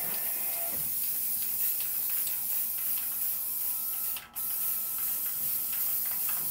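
Spray can spraying a gloss coat over spray-paint art of a simple mountain scene, a steady, close hiss running throughout with one brief break near the end.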